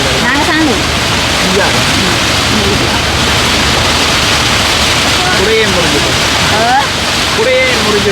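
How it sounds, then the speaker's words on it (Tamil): Heavy, steady rain pours near a flooded reservoir area, a dense continuous hiss filling the whole stretch at high level, with faint overlapping voices and some background sounds mixed underneath. "நல்ல மழை"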